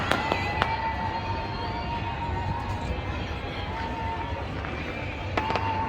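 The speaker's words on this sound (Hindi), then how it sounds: "तो ये आतिशबाजी ज़रा चेक कर लें" Fireworks crackle and pop continuously in the distance during Basant in Lahore, with a few sharper bangs standing out over a dense, rumbling outdoor street backdrop.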